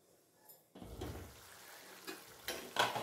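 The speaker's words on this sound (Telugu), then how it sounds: "మధ్య మధ్యలో కలుపుకోవాలండి" Chicken frying in oil in a pan is stirred, giving soft sizzling with scraping and clinking strokes of a utensil at irregular intervals, fairly close and quiet.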